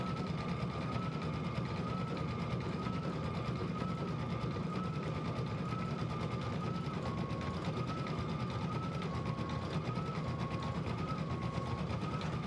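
Steady, continuous whir of a sewing machine stitching out a quilt outline, running at an even pace throughout. The motor hums with a faint wavering pitch, with no voices over it.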